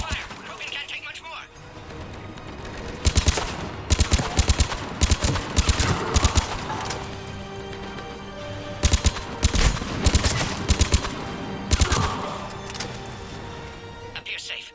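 Repeated bursts of gunfire in Mass Effect 3 crackle over a game battle soundtrack, with clusters of sharp shots recurring every few seconds while voices speak underneath.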